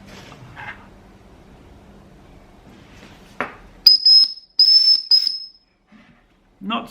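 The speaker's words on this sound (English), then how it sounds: "This has a whistle." A small whistle built into a survival tool gives three short, shrill blasts close by, following a few seconds of quiet handling noise.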